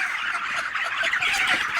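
Inside a poultry farm house holding about 3,000 broiler chickens, the flock keeps up a dense, continuous chorus of clucking and chirping calls that overlap without pause.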